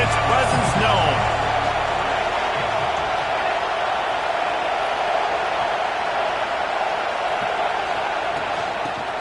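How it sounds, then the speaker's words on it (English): Stadium crowd noise from an NCAA college football video game, a steady broad roar that stays loud and constant throughout, with a brief thump and some voice-like sounds near the start. "This crowd ready to make its presence known."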